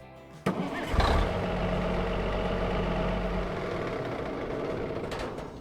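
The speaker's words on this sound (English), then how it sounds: "Let's turn that engine over." A farm vehicle engine in Farming Simulator 25 cranks with a sharp click, catches with a brief loud roar, then settles into a steady low idle that continues close and alone until near the end.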